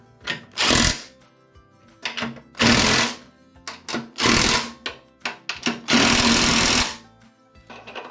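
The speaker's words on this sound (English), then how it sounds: "I'm going to use my impact again for this." An impact wrench hammers loose a pulley on a Husqvarna mower deck in loud, close bursts of rapid rattling, about six of them, split by short pauses and a few quick taps.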